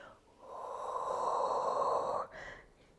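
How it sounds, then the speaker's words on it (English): A single deep, sustained exhale lasting nearly two seconds, close and breathy, during a Pilates exercise, followed by a brief softer breath, with no talking. "Deep breath in, exhale."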